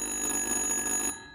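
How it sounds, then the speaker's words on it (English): An electronic telephone rings in a tense scene in the horror game Little Hope, one sustained high tonal burst that cuts off abruptly near the end, alone and moderately loud. "Answer the goddamn phone!"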